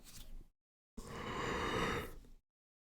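A man gives a long, breathy yawn up close, after a short exhale and a moment of silence, with quiet after it.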